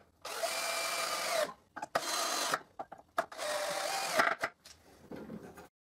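A power drill drives screws into a wooden cylinder in three long, close whirring bursts, separated by short pauses and a few clicks and taps as the tool is repositioned.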